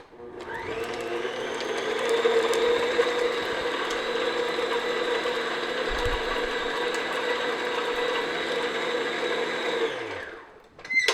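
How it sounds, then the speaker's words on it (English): A countertop electric mixer whirs steadily, beating butter for sugar cookies until smooth, a sustained close motor drone with a soft rattle that runs about ten seconds before cutting off. "So just beat the butter until it's nice and smooth."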